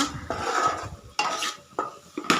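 A spoon stirs a tomato and ivy gourd curry with coconut powder in a pan, making a few close, scraping clinks against the metal in uneven strokes over a faint sizzle.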